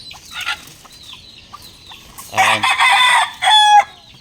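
Hens cluck in short, scattered bursts close by, building to louder, drawn-out squawking calls near the end.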